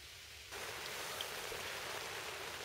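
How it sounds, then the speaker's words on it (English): Heavy rain begins abruptly and then pours steadily as a dense, close hiss at night at a fishing lake, with no voices. "Rain is still hammering down"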